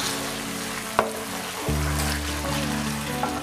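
Halved boiled eggs fry in masala for an egg pepper fry, giving a steady low sizzle with a brief clatter near the start and a louder stir or pan scrape midway, no voices.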